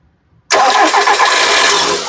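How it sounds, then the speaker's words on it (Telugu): After a brief silence, the 1.6 petrol engine of a 2011 Volkswagen Vento Highline cranks and catches at once, then settles into a loud, steady idle close by. "one point six petrol engine ఒకసారి స్టార్ట్ చేయి"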